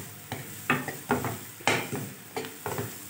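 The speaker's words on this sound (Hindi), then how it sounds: "और थोड़ा सा मैंने ऑयल और शामिल किया है और इसको अच्छी तरह मैं कुक कर रही हूँ" A spoon stirs green garlic pickle cooking in oil in a pan, with about seven rhythmic scraping strokes over a soft, steady sizzle, heard close and alone.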